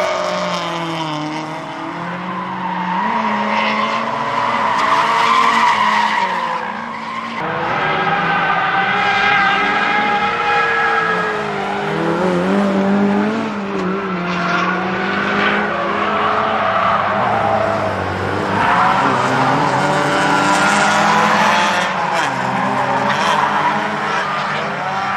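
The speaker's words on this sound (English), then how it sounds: "Miatas make great drift missiles." Mazda Miata race cars drifting on a racetrack, engines droning loud and continuous with shifting revs and tire noise, several cars blending together over a sustained stretch.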